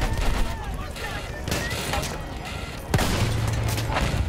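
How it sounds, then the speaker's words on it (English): Gunfire rattles through a Battlefield 1 battle, dense bursts and booms layered over constant noise, with a sharp louder blast near the three-second mark and continuous rumbling action throughout; voices mix in. "Who's shooting?"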